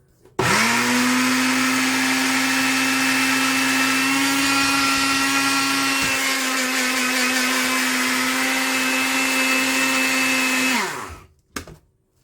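An electric grinder whirs through a batch of flaxseed in one loud, steady, high-pitched motor drone lasting about ten seconds, then spins down to a stop, with no talking over it.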